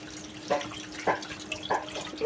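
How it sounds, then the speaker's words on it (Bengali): Pots and pans being washed under running water at a sink, with a steady trickle broken by a few splashy bursts and clinks of dishes as each piece is rinsed, close by and moderate in level. "রাতে ধুয়ে রাখলে সকালে অনেকটা সময় ভালো হয় সব মাইজে রাখছি এখন ধুয়ে নিতেছি"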